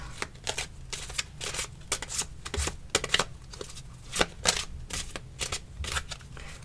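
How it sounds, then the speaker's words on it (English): A deck of playing cards is shuffled in a run of crisp riffling bursts with brief pauses between them, close up and alone with no talk. "and I'm going to shuffle it up."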